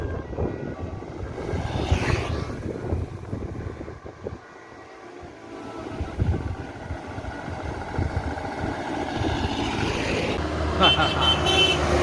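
A Transport Express Jaya intercity bus roars past on the road into Ranah Minang, its engine loud and close, swelling and fading with passing traffic while someone talks over it.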